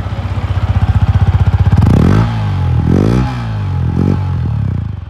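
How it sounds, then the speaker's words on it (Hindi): Yamaha R15 facelift motorcycle idling with a steady rapid pulse, then revved hard several times, the exhaust note rising and falling in loud close bursts with no one speaking. "और अब इसको रेव करते हैं और रेव करने पर आपको इसका एग्जॉस्ट सुनाते हैं।"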